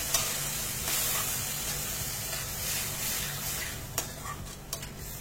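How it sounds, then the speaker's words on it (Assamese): Mixed vegetables for dhaba-style pav bhaji fry in a pan with a couple of spoons of water, giving a steady, close hiss and sizzle with a few sharp stirring clicks near the end. "ইয়াত দিছোঁ 2 চামুচমান পানী দি গোটেইখিনি চব্জি ভালদৰে ভাজি দিওঁ।"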